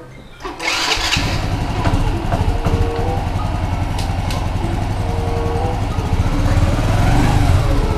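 Motorcycle engine with an automatic clutch starts and runs steadily on a homemade three-roller dyno, a loud, continuous drone with some faint voices underneath.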